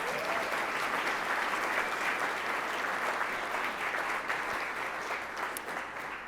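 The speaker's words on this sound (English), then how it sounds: "Please give them a round of applause" Sustained, even applause from an audience honoring a panel of speakers at a Central Ohio building event, dense clapping filling the whole stretch and easing slightly at the close.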